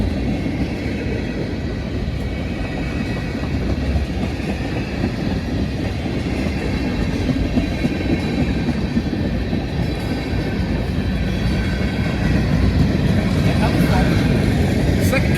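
A Norfolk Southern manifest freight train with hopper cars rolls steadily past nearby, a continuous rumble and rattle of wheels and cars throughout, while people talk over it.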